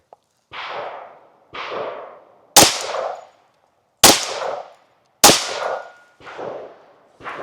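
Rifle shots ring out outdoors at a shooting test, seven sharp cracks spaced about a second apart, three louder blasts among them, each trailing a short echo.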